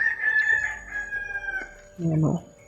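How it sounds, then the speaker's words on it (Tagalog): A wild rooster crows outdoors, a long high drawn-out call followed by a short, louder burst near the end. "May halas na manok."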